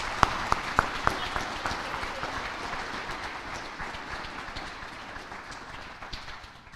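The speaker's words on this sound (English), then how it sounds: "Give her a big round of applause, please." Audience applause at a board meeting, a few sharp early claps swelling into steady, moderately distant clapping from a crowd that slowly fades.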